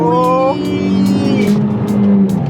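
A BMW E36 with a blown head gasket revs up loud and close, its engine tone climbing and holding in a steady, rising whine.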